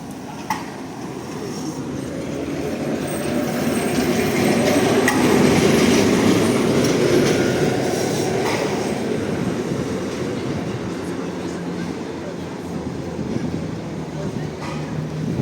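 A tram rumbles past nearby on a summer night street, its rolling noise rising and fading with occasional high squeals from the wheels, and faint voices in the background.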